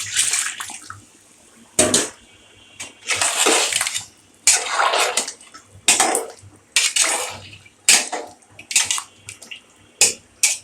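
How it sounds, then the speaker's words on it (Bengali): Water splashes and pours in repeated bursts into a pot of goat meat curry with potatoes and pointed gourd, alternating with metallic stirring and scraping, loud and close. "এখন পানি দিব একটু"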